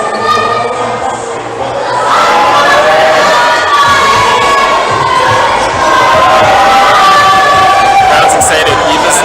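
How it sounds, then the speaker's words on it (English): A lively crowd cheers and shouts steadily at a top rope climbing provincial qualifier, a loud continuous roar with voices rising and falling throughout. "Crowd's excited."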